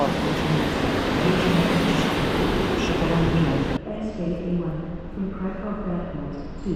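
A passing train hauled by an EU07 electric locomotive rumbles steadily and loudly nearby, then cuts to a quieter, more distant rolling sound, with people talking over it.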